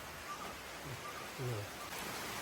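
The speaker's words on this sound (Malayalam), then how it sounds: "മഴയാണല്ലോ" Rain falls steadily on a goat farm in rural Kerala, giving a faint, even hiss throughout, with a couple of brief low voiced sounds rising over it.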